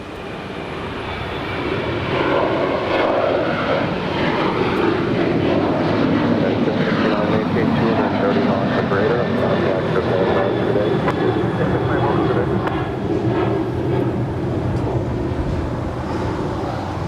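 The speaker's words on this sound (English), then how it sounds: "It's followed by United Airlines flight 742 heading to Dulles in that" A United Airlines Boeing 787-8 Dreamliner taking off from runway 25 Right at LAX, its engines holding a steady, loud, broad roar for the full stretch with some wind buffeting on the microphone.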